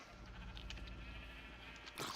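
Black sheep in a survival video game bleat softly, a faint wavering animal call under quiet background, followed near the end by a sharper, louder crunching burst.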